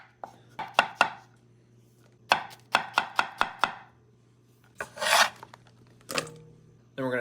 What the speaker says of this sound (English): First, we gotta dice up our mushrooms. We'll start by just chopping them in half.